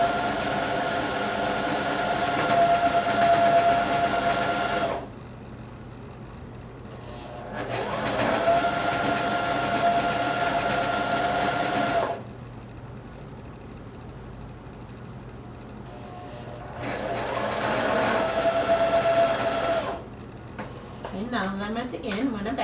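A sewing machine stitches over ruffles on leggings in three sustained whirring bursts with quiet gaps between them, close and steady.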